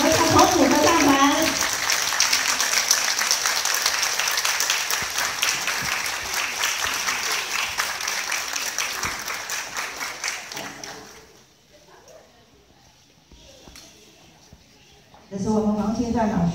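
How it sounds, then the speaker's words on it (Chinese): An audience applauds warmly to welcome three choir groups onto the stage at a concert, a dense sustained wash of clapping that fades out, then swells again near the end. "让我们用最热情的掌声，谢谢，欢迎我们三位合唱团组的上台"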